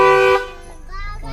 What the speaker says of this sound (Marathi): हॉर्न वाजवा म्हणते.